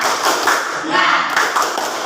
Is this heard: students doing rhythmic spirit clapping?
yes